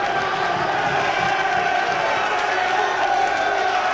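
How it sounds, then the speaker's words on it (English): Wrestling crowd at Turner Rec Center roars steadily in a loud, continuous wash of cheering and shouting, with no pause throughout. "Crowd is all over him here at Turner Rec Center"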